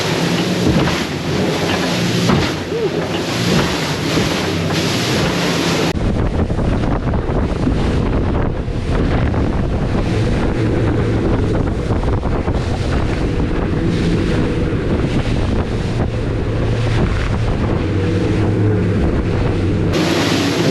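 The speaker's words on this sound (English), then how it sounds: "The waves are not big, they're just choppy, they're bunched up back to back to back." Rough, constant water and wind noise with crashing surges, choppy ocean waves battering close by during a boat crossing to Bimini, loud and unbroken, with heavy wind rumble on the mic.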